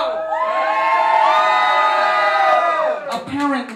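A live concert crowd screaming and cheering at a hip-hop show, a loud sustained mass of high shrieks and whoops that swells, then breaks into scattered yells near the end.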